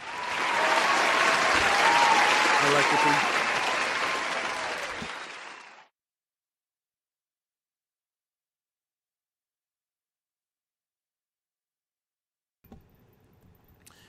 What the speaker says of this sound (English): I'm going to give them another round of applause, because I like what they did.